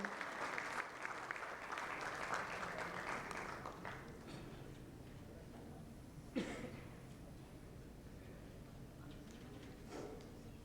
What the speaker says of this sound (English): can we have a huge round of applause for Shalinee, Mimani?